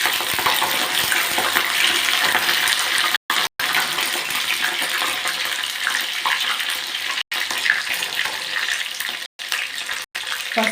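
Raw green banana slices of the poovan variety fry in hot oil for chips. A dense, steady sizzle fills the whole stretch, broken only by a few momentary dropouts.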